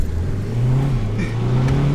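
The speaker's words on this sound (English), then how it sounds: "This car is rapid though" A fast car's engine pulls hard as it accelerates, a steady loud drone rising slightly in pitch from inside the cabin, continuous for the whole stretch with no talk over it.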